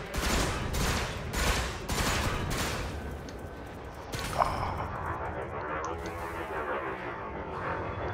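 Ship weapons firing in a space combat game, Elite Dangerous: a run of loud rhythmic bursts in the first few seconds, then a sharp crack followed by a softer sweeping, warbling tone.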